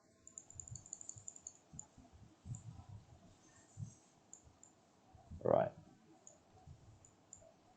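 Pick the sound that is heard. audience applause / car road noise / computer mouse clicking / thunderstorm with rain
computer mouse clicking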